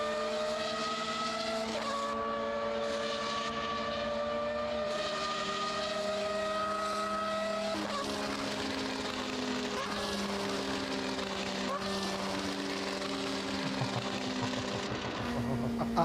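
Prototype race car engine in the Automobilista 2 racing sim, a loud, steady high-pitched howl with rising pitch sweeps through the gears and sharp drops at each upshift, continuous throughout.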